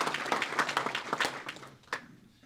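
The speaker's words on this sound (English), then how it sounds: "So let's give them a round of applause for that" Scattered audience applause at a National Crime Victims' Rights Week luncheon: a short burst of clapping that thins out and fades within a couple of seconds.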